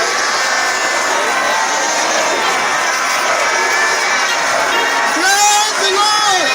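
A church congregation in Nigeria cheers and shouts loudly, a sustained roar of many voices that swells briefly near the end.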